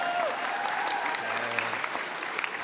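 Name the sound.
audience applause at graduation ceremony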